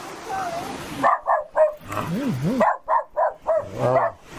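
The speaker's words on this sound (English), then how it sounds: "Here's a little dog here. Who are you barking at?" A small dog in a tabletop role-play session scene, giving a series of short sharp yips and barks in a quick rhythm, close and fairly loud, with a few whimpering tones, alternating with a voice.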